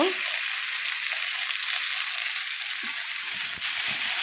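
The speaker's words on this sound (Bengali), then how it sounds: "দিয়ে কিছুক্ষণ আমি নেড়ে হালকা করে ভেজে নেব" Eggplant and potato fry with spinach stems in hot oil, a steady loud sizzle throughout with faint stirring clinks underneath.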